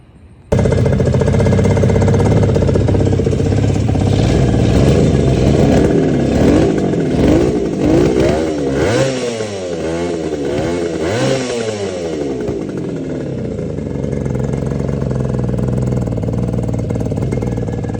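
A barn-find Kawasaki S3 400 motorcycle with a glass pack exhaust, started for the first time in over 20 years: a loud, raspy two-stroke engine idles and then revs up and down repeatedly before settling back to a steady, buzzing idle.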